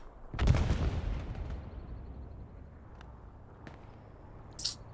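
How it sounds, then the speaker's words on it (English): A deep explosive boom from a bombing run in Hell Let Loose, with a rolling low rumble that decays over several seconds and faint distant thuds afterward. "Bombing run."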